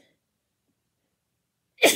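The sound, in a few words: sneeze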